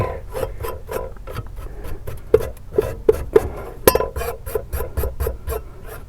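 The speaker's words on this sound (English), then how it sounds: "So I take a little brush and just take a few minutes to get rid of the extra debris" A small brush scrubs debris off the flapper of an outdoor wood boiler in quick, rasping back-and-forth strokes, close up, with a few sharper scrapes and clicks mixed in.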